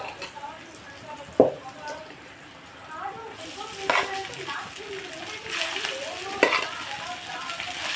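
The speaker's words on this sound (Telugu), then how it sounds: "ఒకసారి కలుపుకుని దీంట్లో రైస్ రైస్ వేస్తాం" Rice is stirred into a pan of oil tempered with asafoetida for lemon rice, giving a soft sizzle with a few scraping knocks of the spoon. Children's voices can be heard faintly in the background.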